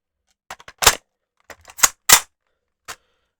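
An airsoft AK-47 is reloaded in a series of sharp metallic clicks and clacks, several separate snaps spread over a few seconds in otherwise quiet surroundings.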